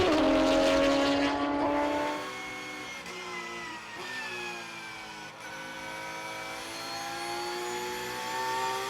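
Race cars at speed through the corners of the Sonoma SpeedTour circuit, engines howling loud at first, then falling in pitch as they pass and recede, with other cars droning behind.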